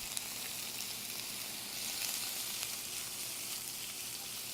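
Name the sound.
red snapper frying in a pan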